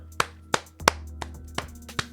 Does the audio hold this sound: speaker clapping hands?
yes